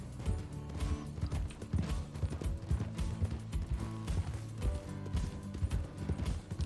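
Horse hooves pounding in a fast run in the Western roleplay game RedM, a busy rhythmic clatter of repeated hoofbeats mixed with mechanical rattling, steady and fairly close for several seconds.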